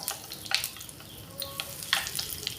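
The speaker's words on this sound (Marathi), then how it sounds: "अर्धा चमचा हिंग घालूयात" Fenugreek seeds and asafoetida hitting hot oil in a tempering for fresh turmeric pickle, with the gas switched off, give a soft steady sizzle and crackle, with several sharper spitting bursts over close, quiet frying.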